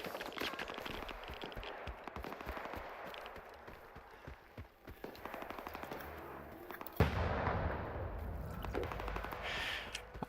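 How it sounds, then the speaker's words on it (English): Gunfire in S.T.A.L.K.E.R. 2 with bursts of automatic fire and rapid single shots, fairly distant and fluctuating, plus a louder close crack near the end. "what is that shooting?"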